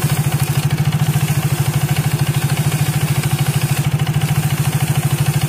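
Power scooter engine running at a steady idle while serving as a makeshift lathe, a close, even, rapid thumping pulse with metallic clatter over it, with no talk.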